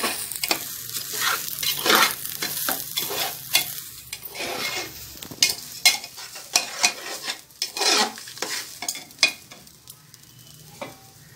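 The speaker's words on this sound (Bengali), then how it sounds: "চালটা আমি ভালো করে ভেজে নেব।" Rice frying in a pan for pressure-cooker chicken biryani, with repeated scraping stirs of a spoon against the metal over a soft, close sizzle, heard alone without talking.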